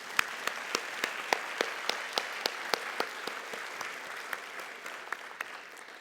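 An audience applauds at a senior banquet with steady, moderately loud clapping, individual sharp claps standing out in a regular rhythm over the general patter before it thins toward the end.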